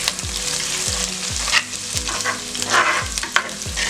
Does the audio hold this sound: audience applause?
no